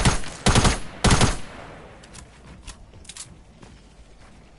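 Gunfire in Fortnite: three loud bursts of rapid shots up front, then scattered fainter distant shots over quiet game ambience.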